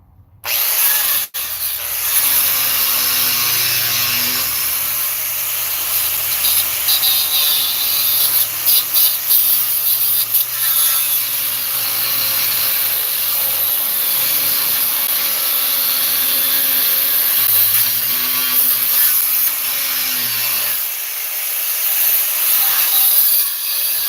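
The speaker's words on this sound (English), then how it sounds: "just use your cutting disc and just run right beside the metal that you're gonna weld to." A cutting disc on an angle grinder runs steadily against metal to clean it before welding, a loud continuous abrasive whine close by with slight pitch wobbles as the load changes, lasting nearly the whole clip.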